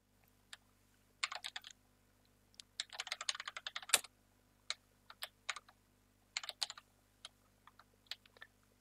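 Quiet, close computer keyboard typing while a Minecraft server script is written, coming in irregular bursts of rapid keystrokes with short pauses between them and no voices.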